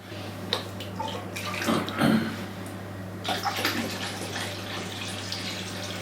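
Hot water is poured into a foot basin for a home steam soak, a splashing, gurgling pour that swells and fades in bursts over a low steady hum.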